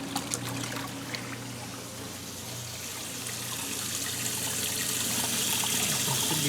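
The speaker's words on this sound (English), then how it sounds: "That water is really audible." Water splashes and trickles from an RV plumbing system being unwinterized for the season, a continuous soft rushing flow that grows slightly stronger toward the end, heard alone at moderate distance.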